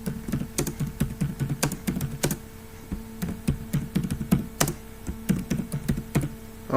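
Typing on a computer keyboard into a Word document, a close, steady patter of key clicks in quick bursts with brief pauses, no voices.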